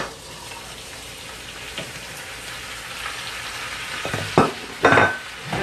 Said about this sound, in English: last thing to put in is the shrimp